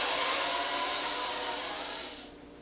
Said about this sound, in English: you're going to suck your breath in through your teeth